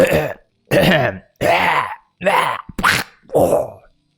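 A voice mimics a neighbour's heavy smoker's night cough in six rough, throaty bursts separated by short pauses, close and loud, with no other sound.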